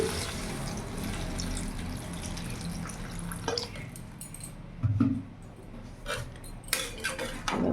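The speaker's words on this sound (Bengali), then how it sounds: "দু 3 মিনিট কষানোর পরে এবার জল দিয়ে দিলাম" Water pours into a pan of papaya and mung dal, giving a steady close splashing wash with clinks of metal utensils and pan knocks near the end, and no voices.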